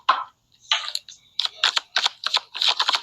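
Tarot cards being shuffled during a paid reading, giving a burst of quick papery riffles and clicks, then a pause followed by a run of sharp, evenly spaced card-slapping bursts, close and fairly loud with no talking.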